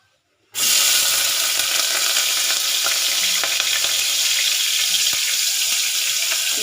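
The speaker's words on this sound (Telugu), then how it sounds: "నేనైతే ఇట్లా ఆనియన్ అయితే కడిగి వేస్తాను" Washed onions hit hot oil and set off a loud, steady sizzle that spits and crackles close by, running without a break after a short silent start.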